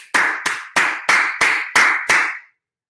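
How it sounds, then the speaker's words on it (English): One person claps alone in an empty room during a remote conference: seven sharp, evenly spaced claps, each with a ringing room echo, then silence. "I didn't realize how awkward it is to just applaud an empty room"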